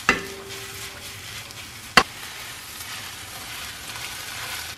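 Noodles are tossed with a soy sauce and peanut butter dressing with oil, making a soft, continuous wet mixing rustle. A sharp click or clack comes at the start and another around the middle.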